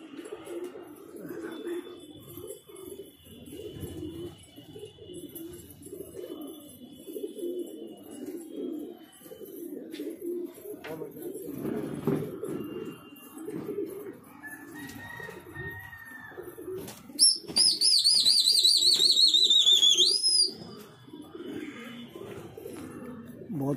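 Pigeons coo softly in low, throaty murmurs over a quiet outdoor background, with a brief burst of shrill chirping birdsong near the end.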